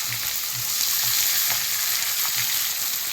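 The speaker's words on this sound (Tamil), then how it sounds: "நம்ம அந்த இடத்துல வெங்காயத்தை போட்டணும் கடாயில்." Onions hit hot oil in a kadai and fry with a steady, loud crackling sizzle, broken by faint rhythmic stirring, with no talk.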